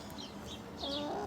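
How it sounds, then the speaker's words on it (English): A Rhode Island Red chicken in an urban backyard gives a few soft clucks and murmurs at moderate distance over a steady background hiss. "right behind you there is Rosie, the Rhode Island Red."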